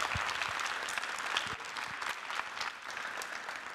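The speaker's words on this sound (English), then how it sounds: "A round of applause" A conference keynote audience applauds with a steady, dense round of clapping from a large crowd. It holds at an even level throughout with no voices on top.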